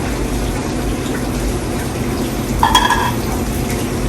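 Lemon juice is poured into a pan in a home kitchen with a steady, close liquid rush over low background noise, and a brief brighter splash partway through.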